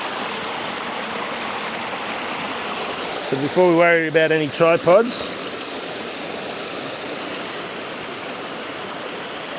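A river at Kiamba rock pools flows with a steady, even rushing hiss from start to finish, and someone briefly speaks over the water partway through.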